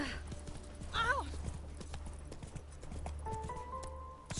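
A horse gallops in The Witcher 3: Wild Hunt with a rapid, steady clip-clop of hooves, and a high whinny briefly rises above the hoofbeats. A low background drone runs underneath, and quiet voices come in intermittently.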